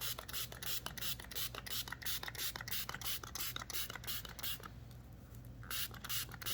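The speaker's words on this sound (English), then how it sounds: "And I'll spray them down." A handheld spray bottle mists tiny tomato and pepper seedlings, a rapid series of sharp pumping sprays with a brief pause before the spraying resumes, close and alone.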